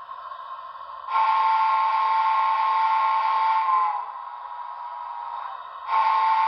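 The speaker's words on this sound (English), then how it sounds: "Here's the alternate whistle on 22." The alternate whistle on a Broadway Limited New Haven I-5 DCC model locomotive sounds as a steady chime tone that swells louder, eases back down, then returns strongly at the end.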